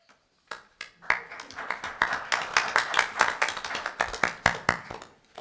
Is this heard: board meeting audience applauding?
yes